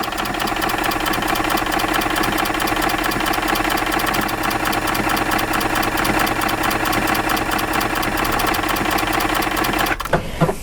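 A sewing machine runs a decorative stitch nonstop, its rapid, even mechanical whirring and needle clatter loud and close, cutting off abruptly near the end with a few faint clicks.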